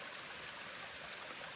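A stream of rainwater runs down through wooded ground, a steady, soft rushing and trickling that continues alone without a break.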